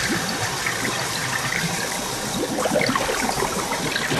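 Water overflows from a bathtub in a cheap studio apartment, a continuous gushing, splashing rush at moderate level with no talking.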